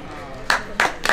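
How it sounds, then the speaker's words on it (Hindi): Audience claps in short bursts during a Hindu devotional discourse, three brief broadband bursts of hand claps separated by quieter room tone. "तालियां तो आपने बजाई"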